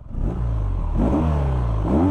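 A 2021 BMW R nineT 1200 motorcycle engine revs up in repeated bursts, rising and falling in pitch over a steady idle, loud and close with no talking.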